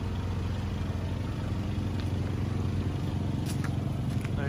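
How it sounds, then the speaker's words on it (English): A 2014 Volkswagen Golf GTD diesel engine idles steadily, a continuous low mechanical hum and clatter heard close up with no other sounds on top. "just to show you the engine running"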